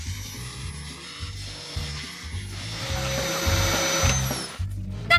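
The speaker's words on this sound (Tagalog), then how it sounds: "Sa vacuum cleaner?" A vacuum cleaner runs steadily with a loud whirring drone and a high whine that shifts in pitch. Rhythmic cartoon music plays beneath it and no one speaks.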